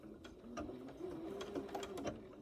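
Sewing machine running steadily while stitching binding along the edge of a baby quilt, a continuous moderate whir with slight speed changes, fairly faint and close, no talking.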